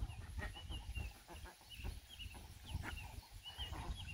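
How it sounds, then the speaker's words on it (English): Ducks waddle toward water after geese have bathed and give repeated short, clucking quacks. The calls come in uneven bursts at moderate distance over faint outdoor background noise. "Now that the geese are done taking their bath, the ducks came running over."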